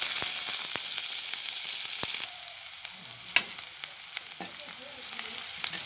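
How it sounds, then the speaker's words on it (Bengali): Chopped onion and garlic frying in soybean oil in a wok, a loud hiss that drops to a quieter sizzle partway through, punctuated by a few sharp stirring clicks, close by with no speech. "পেঁয়াজ রসুনগুলো আমি একটু বাদামি কালার করে ভেজে নিতেছি।"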